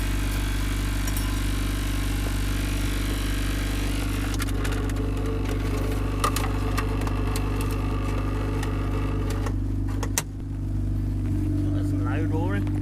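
Deep, steady drone of a Honda Civic turbo engine through a full custom exhaust, rumbling loudly and continuously, with a brief dip and surge near the end.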